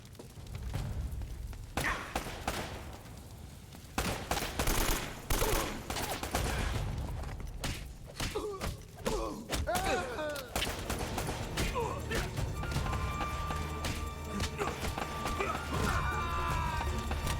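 Gunfire in the video game Uncharted: Drake's Fortune comes as repeated sharp bursts and scattered shots, mixed with impacts and other game effects at fairly loud, uneven levels throughout.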